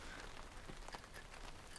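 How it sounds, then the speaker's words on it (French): Steady rain patters on a tarp shelter in rainy April weather, a faint, dense, even hiss of drops with no speech over it. "On a hâte de quitter cette pluie et ce mauvais temps."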